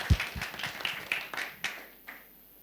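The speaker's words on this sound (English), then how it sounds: "So warm round of applause." An audience at a conference session claps briefly and sparsely. The applause is a handful of soft, separate claps that fade out within a couple of seconds, with no talking.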